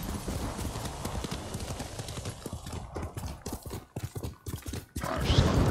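Horse hooves clip-clop at a steady trotting rhythm in the video game Ghost of Tsushima, fairly close, briefly thinning out before ambient game sound swells near the end.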